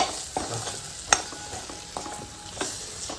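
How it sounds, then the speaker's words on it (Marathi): Stirring fresh cashew nut curry in a pan, with a soft scraping and sizzling texture and a few light clinks of the spoon against the metal, close and steady with no talking. "व्यवस्थित फिरून घेऊया"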